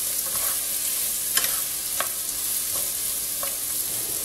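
Onion tossed into a pan of frying salo (pork fat) and stirred: a constant close sizzle with several distinct spoon scrapes and taps at irregular intervals, no voices.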